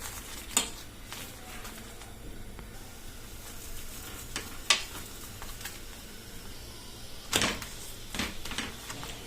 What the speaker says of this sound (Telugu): ఆ తర్వాత కొద్దిగా ఆయిల్ వేసుకొని కాల్చుకోవాలి